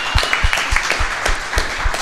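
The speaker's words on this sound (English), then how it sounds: "One more round of applause for the kiddos this year." Scattered hand claps from a small group break out in uneven bursts at a high school football coach's show, fairly close and moderately loud with no talk over them.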